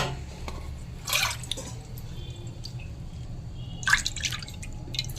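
Two cups of water are poured into a wok while making pitha, heard as two brief splashing bursts over a quiet kitchen background.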